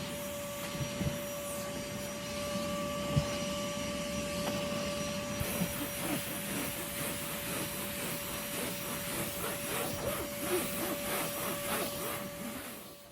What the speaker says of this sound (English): plug the cord to use your vacuum, and you will listen to it on real time